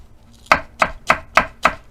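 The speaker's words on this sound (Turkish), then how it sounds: "Ardından tahtamıza yatırıp aynı şekilde ince bir şekilde doğrayacağız" Five sharp, evenly spaced knife strikes on a cutting board as a Charleston pepper is chopped finely, close and crisp with a steady rhythm and no talking.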